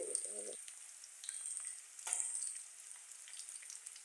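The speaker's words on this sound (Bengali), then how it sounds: "পেঁয়াজ আর রসুন থেকে অনেক সুন্দর করে ভেজে নিতে হবে" Onion and garlic fry in a pan with a faint, steady sizzle, a brief low thump near the start and a louder stir or scrape midway, heard close and quiet.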